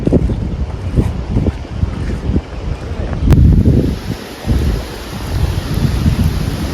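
Water released through an open dam gate rushes and roars with heavy force, a loud continuous churning rumble with gusty wind buffeting the microphone.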